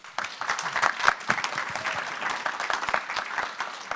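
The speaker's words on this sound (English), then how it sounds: "So can we please have a round of applause for our panel?" An audience at a patient-advocacy event applauds a panel, with dense scattered clapping from many hands continuing steadily, moderately loud in the room.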